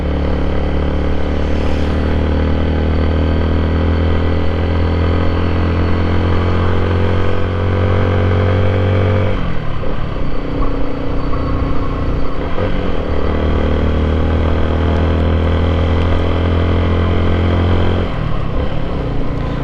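Motorcycle riding on a road, engine droning loud and close with a steady low hum and a brief shift in pitch midway, wind and road noise throughout.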